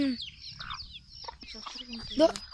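Native country chickens, including a mother hen with chicks, cluck and call in short bursts, with a louder squawk near the end, over faint background noise.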